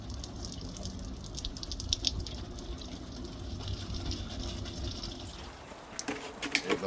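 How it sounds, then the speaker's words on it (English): Water gushes steadily from a garden hose into a plastic water barrel, a continuous splashing flow with a few sharper drips and spatters near the end. "Give the hose a good rinsing out."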